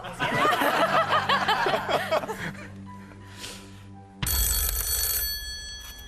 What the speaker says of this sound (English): I'm sure it was a phone just like this that Jack Warner used to pick up